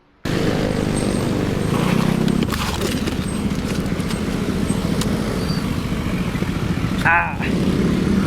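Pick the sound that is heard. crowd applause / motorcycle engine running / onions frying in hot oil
motorcycle engine running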